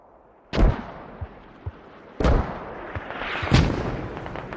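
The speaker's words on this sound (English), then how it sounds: "BOB mortars hitting on the cap directly now" Mortar rounds landing on a capture point in a squad-based multiplayer war game, three heavy booming impacts a second or two apart with rumbling tails and smaller thuds between.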